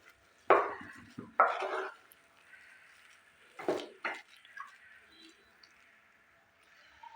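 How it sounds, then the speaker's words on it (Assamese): Grated paneer mixed with potatoes in a bowl, a handful of soft scraping and clattering strokes from a spoon, separated by quiet pauses. "পনীৰখিনিও মই আলুৰ লগত ভালদৰে ইয়াতে এইদৰে মিলাই লওঁ।"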